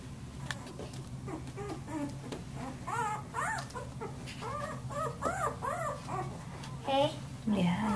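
A puppy whimpers and yips in a series of high, wavering whines close by, with a person talking softly alongside.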